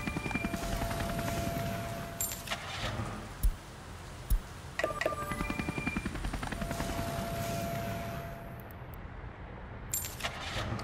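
A helicopter in the city-building game Workers & Resources, its steady rotor whir running continuously with faint game interface clicks and a few brief tones, no talking.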